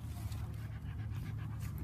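A young puppy pants in quick, steady breaths close by, soft and continuous over a low background rumble, with no voices heard.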